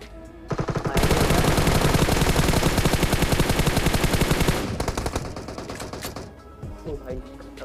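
Rapid automatic gunfire in a battle royale game during a duo Conqueror-rank last-zone fight, a loud sustained burst of shots that breaks off into scattered single shots and fainter bursts.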